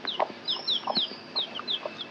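A black hen clucks repeatedly beside her newly hatched chicks, which peep high and bright in a quick, steady series over the low, soft clucks, all close by in a quiet farmyard.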